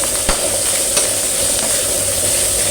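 Beef curry in a pan over an old lard-fuelled oil stove: a steady sizzle and hiss with a few sharp stirring scrapes, close and continuous, with no talking.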